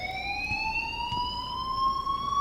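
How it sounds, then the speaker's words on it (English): A school alarm in Life is Strange sounds as one steady, rising electronic wail with strong harmonics, loud and unbroken, with faint background noise beneath. "please turn off that alarm since that's your job"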